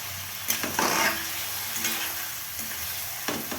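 Chicken pieces sizzle steadily in a pan and are stirred now and then, giving a continuous close frying hiss broken by a few scraping clatters, with no voices.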